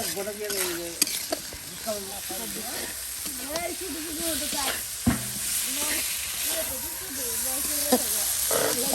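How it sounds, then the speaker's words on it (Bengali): Potatoes frying with spices in a pan give a soft, continuous sizzle with scattered stirring clicks, heard quietly beneath a voice talking throughout. "মশলার সাথে সেই আলু কষিয়ে নেওয়া হলো"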